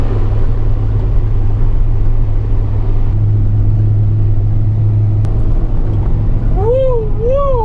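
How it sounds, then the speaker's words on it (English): A farm tractor engine runs in a steady, loud low drone throughout, with a short warbling vocal whoop near the end. "what are you doing in a tractor?"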